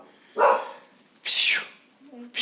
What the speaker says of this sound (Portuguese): Ai, eu tô com um cachorro novo aqui.